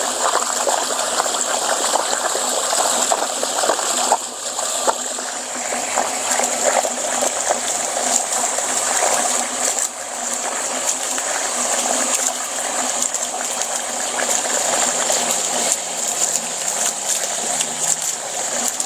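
Shimizu SPES-308K water pump running hard, sucking and pumping water with a constant close rushing, splashing flow and a steady hum underneath, unchanging throughout.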